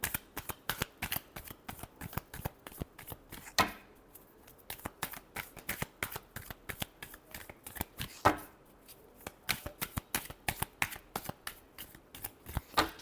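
Tarot cards being riffled and shuffled close up, a long run of quick crisp flicks and slaps with a couple of brief pauses, no voices over it.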